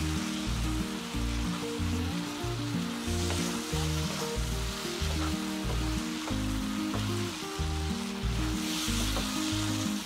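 Steady, dense sizzling of frying in white oil while cooking egg korma, continuous and close with no pauses, mixed with a low droning hum.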